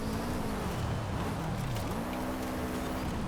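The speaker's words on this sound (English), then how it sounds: "Let's go full throttle through here with a minor drift." Race car engine at full throttle in the Forza Horizon rally game, a steady loud drone whose pitch dips and climbs again through a drift, running on its own with no talk.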